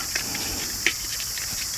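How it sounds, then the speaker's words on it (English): Loud, constant high-pitched drone of cicadas at a campsite in Rock Point Provincial Park, with a couple of faint clicks over the steady buzz. "cicadas right now. They're incredibly loud."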